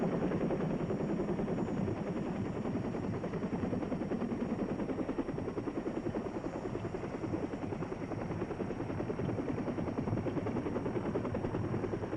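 A large US Army helicopter drones steadily with the rapid thumping of its rotor blades, carrying troops in South Vietnam, continuous and fairly close, with no voices.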